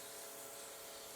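Continuous, even rasping of sandpaper on a wooden back scratcher spinning on a lathe, a steady hiss with no breaks, close and fairly loud.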